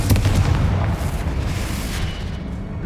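The Confringo fire spell explodes in the Hogwarts Legacy video game on PS5, a dense, loud, rumbling blast of booming low-end energy that stays sustained across the whole moment with no talk over it.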